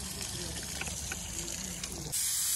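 Water rushing steadily into tractor tyres, a continuous gushing hiss that keeps going through the whole stretch and shifts to a brighter fill sound near the end, with faint voices underneath.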